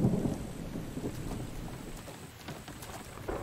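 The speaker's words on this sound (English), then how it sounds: "And it's raining." Steady rain with a low rumble of thunder in the video game The Infected, a continuous broadband wash of rainfall that runs throughout at moderate level, with no talk.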